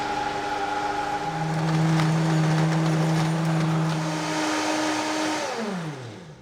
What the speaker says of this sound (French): et ensuite je vais mixer tout ça